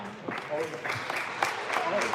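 At a varsity basketball game between Salesian and Spellman, the crowd gives steady, moderate applause as an injured player returns to the bench, with a commentator talking over the clapping.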